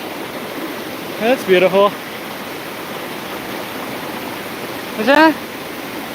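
A river stream flows with a steady, broad rush of water close by, running continuously as a person speaks briefly twice over it.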